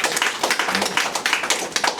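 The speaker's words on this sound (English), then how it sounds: "give them a round of applause again" Small audience clapping at an award event, a close, steady patter of many hands for the whole two seconds.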